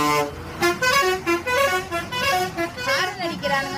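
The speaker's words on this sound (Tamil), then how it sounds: "ஹாரன் அடிக்கிறானுங்க." Busy street traffic in Thanjavur, with a sequence of loud vehicle horns honking in short repeated toots, someone speaking over the din.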